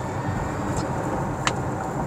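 A Hyundai Kona Electric accelerates in sports mode, giving a steady broadband road and tire rush inside the cabin with a faint electric whine and a couple of brief ticks.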